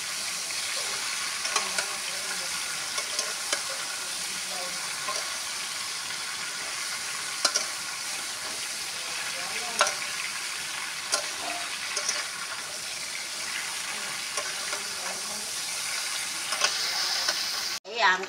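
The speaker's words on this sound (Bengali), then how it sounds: "ভাজা হয়ে গেছে আমটা, দেখো ভালো করে ভেজে নিচ্ছি।" Pieces of home-grown mango frying in oil for a sweet and sour Bengali pickle, sizzling softly and continuously in a pan while a spoon stirs and scrapes, with brief clinks and rain-like hiss in the background.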